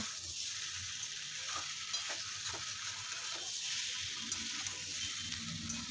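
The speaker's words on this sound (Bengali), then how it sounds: "এবারে ওই ফুলকপির মধ্যে সমস্ত উপকরণগুলোকে ঢেলে দিলাম, দিয়ে আবারও খুব ভালো করে নাড়িয়ে চাড়িয়ে নেব" Cauliflower stirred with spices and whole tomatoes in a hot pan gives a steady, close sizzle, with soft scraping strokes of a spoon breaking through at intervals.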